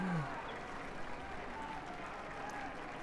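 A crowd applauds the leader in the video game Beholder 2, with faint, steady clapping running under quiet game sound and a bit of speech.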